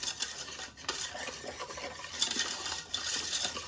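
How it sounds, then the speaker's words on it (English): A whisk stirs cocoa powder, sugar and salt together in a pot, a quiet, steady scraping and rattling of metal against metal with no voices. "Give it a quick whisk until everything is well blended."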